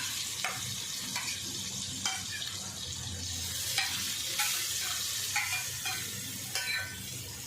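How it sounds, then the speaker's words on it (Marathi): A ground green pea masala paste sautés in oil with a soft, steady sizzle, punctuated by regular scraping and tapping strokes of a spoon against the pan at close range, without any speech. "हे जे आपण वाटण बनवलं होतं ते टाकायचं तेलात परतून घ्यायचं"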